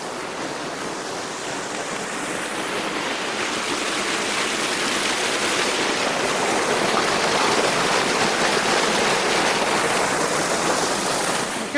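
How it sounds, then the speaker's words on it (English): Waterfall in a desert canyon, a loud, steady broadband rush of falling water that stays constant throughout with no voices. "I'm at the second waterfall."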